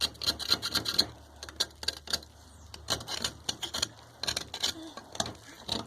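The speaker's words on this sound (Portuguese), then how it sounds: "eu vou raspar de leve, só pra poder tirar essas partes de cima" A smooth-edged kitchen knife lightly scrapes the top surface of a cement keychain piece, giving repeated short, gritty strokes at an uneven rhythm, close and fairly quiet.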